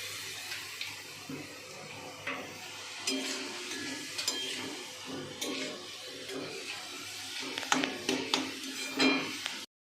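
Food being stirred as it fries in a pan, with soft scraping and sizzling under a continuous watery hiss, broken by irregular louder clatters near the end.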